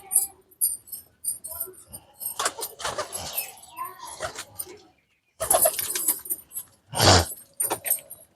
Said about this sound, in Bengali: এখন পায়রাগুলো সব ছেড়ে দেবো বাইরে।